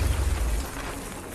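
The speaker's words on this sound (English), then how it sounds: "The explosion!" A loud, rumbling explosion booms in the video game Batman: Arkham Knight, with a heavy low-end burst at the start that settles into a sustained roar.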